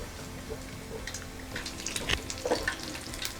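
Black-eyed pea vadas deep-frying in oil over a medium flame give a steady, fairly quiet crackle, with a few sharper pops and spatters near the end.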